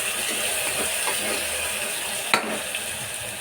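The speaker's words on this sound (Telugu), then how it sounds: "ఇప్పుడు ఈ పసుపు, అల్లం వెల్లుల్లి పేస్ట్ పచ్చి వాసన పోయేంత వరకు ఆయిల్లో వేగనివ్వాలి." Turmeric and ginger-garlic paste frying in hot oil in a pan, a steady close sizzle and hiss with a brief clink near the end.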